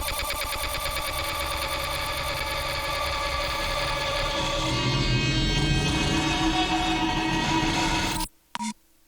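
A synth played dry with the lossy plugin removed, a dense, buzzy sustained tone with a rapid stuttering texture that thins out before cutting off abruptly, with a brief blip after the stop.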